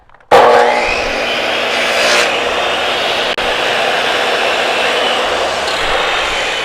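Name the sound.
12-inch sliding saw cutting material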